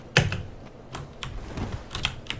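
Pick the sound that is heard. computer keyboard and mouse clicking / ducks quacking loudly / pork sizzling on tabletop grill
computer keyboard and mouse clicking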